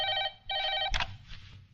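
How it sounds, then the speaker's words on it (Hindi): A telephone in an Indian village setting rings in two long bursts of electronic trilling, close and clear, followed by a sharp knock as the receiver is picked up and a brief rustle. "एसपी साहब को फोन लगाइए।"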